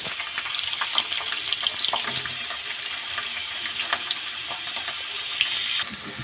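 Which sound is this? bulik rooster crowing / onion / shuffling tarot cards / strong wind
onion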